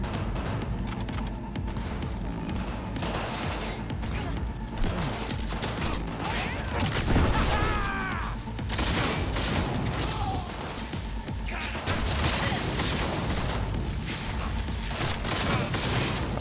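Shotgun blasts and rapid gunfire in the Cyberpunk 2077 video game, dense bursts of shots with mechanical clatter and crashing impacts, loud and continuous throughout.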